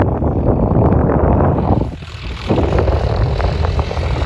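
A John Deere 5036 D tractor engine rumbles loudly and close, a dense low drone that dips briefly in the middle before resuming at full strength.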